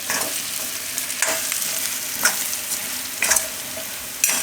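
A carrot, radish and potato curry with added red chili powder sizzles in a pan while being stirred, with steady frying hiss broken by periodic spoon scrapes and clanks, close and without speech.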